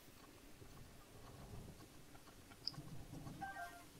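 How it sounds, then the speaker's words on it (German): A thunderstorm in the video game Breath of the Wild brings faint, steady rain hiss with a soft, low rumble underneath. The sound is quiet and distant throughout, with no talking. "Oh, wieder schlechtes Gewitter."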